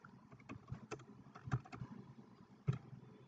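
Typing on a computer keyboard while entering text on a web page: scattered soft key clicks in an irregular rhythm, a couple of sharper taps, quiet and close, with no voices.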